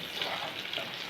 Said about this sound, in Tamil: நல்லா வதங்கி எடுத்து